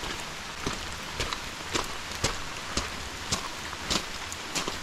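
Rain falls in a Costa Rican rainforest, a steady soft hiss punctuated by regular heavier drips or drops landing nearby, fairly quiet overall.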